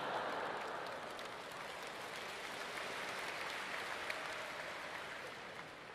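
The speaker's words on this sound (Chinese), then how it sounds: "听听这个掌声" A theater crowd at a Deyunshe crosstalk comedy show in Shanghai applauds in a steady, dense wash of clapping that fills the hall and gradually eases without stopping.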